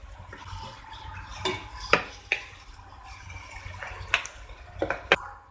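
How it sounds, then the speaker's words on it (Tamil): Water is poured into a pan of spring onion gravy with roasted peanuts, giving a soft continuous splash and trickle broken by several sharp clinks of a utensil against the pan. "இது கூட கொஞ்சமா தண்ணி சேர்த்திக்கலாம்."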